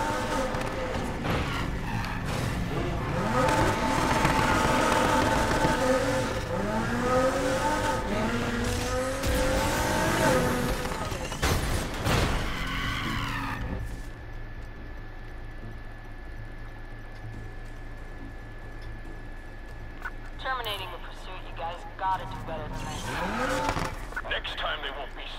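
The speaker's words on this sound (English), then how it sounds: "that's that Honda engine, that VTEC" Acura RSX with a Honda VTEC engine racing at night in Need for Speed Heat, loud engine roar rising through gears with tire squeal and skids, under talking voices and music, then quieter engine hum with brief bursts near the end.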